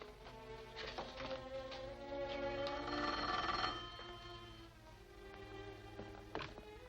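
An old-fashioned telephone bell rings in long steady bursts, fairly loud and close, over a low background hum, in a 1930s adventure serial just before someone answers the call.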